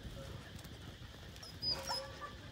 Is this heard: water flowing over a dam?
no